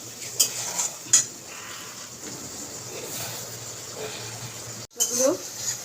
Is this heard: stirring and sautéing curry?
yes